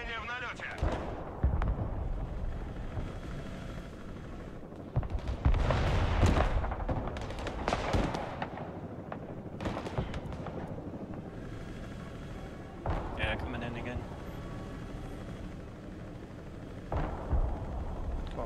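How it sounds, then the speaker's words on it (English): Missile launches in the real-time strategy game Broken Arrow, a series of loud booming blasts and rushing bursts over continuous battlefield rumble, with speech heard faintly in the mix. "Missiles fire."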